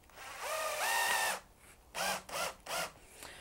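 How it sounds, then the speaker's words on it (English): A power drill drives screws to join two strips of wood for woodturning, whining up in pitch through one long run, then three shorter bursts separated by pauses, close and fairly loud. "I'm just going to start out by joining them together temporarily using some screws"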